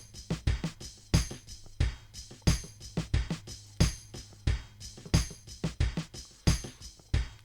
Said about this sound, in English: So all of the drums together sound like this.